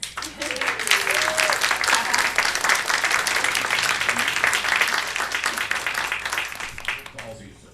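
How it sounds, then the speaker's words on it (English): A crowd applauds steadily for an engineer being introduced on stage, dense clapping with a voice speaking briefly at the start, fading out near the end. "They actually applauded for Dale"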